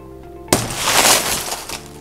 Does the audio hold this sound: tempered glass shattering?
yes